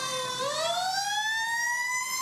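A Waco Fire and Rescue fire engine, number 14, sounds its siren in a Christmas parade, one loud close wail sweeping upward and holding high, with no talk.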